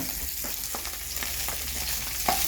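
Onions fry in a pan with a steady, moderately loud sizzle. A few soft stirring taps and scrapes are scattered through it.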